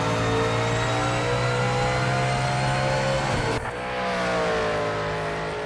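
A GT3 Mustang race car engine in a racing video game roars at high revs in steady harmonic tones, dropping briefly as gears shift, then climbing again; loud and continuous with no talk.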